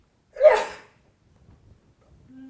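A single sharp sneeze bursts out close by, followed by near silence and a faint low hum.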